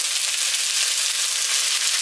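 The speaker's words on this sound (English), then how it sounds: "We're going to put loud sizzle, bam," Fish sizzling loudly in a black iron pan, a dense, steady, hissing fry filling the whole clip with no pauses.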